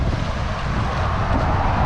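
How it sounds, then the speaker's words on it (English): Wind in the desert near the Egypt–Israel border buffets the microphone with a continuous low, rumbling gust noise, loud and close, with no talking. "It's windy."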